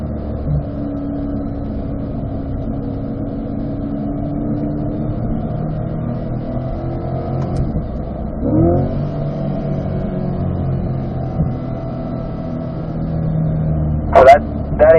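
A car at a Spring Mountain performance driving school track session, its engine droning steadily with gear and pitch shifts mid-run, loud and close from inside the cabin, with a brief sharp clatter near the end.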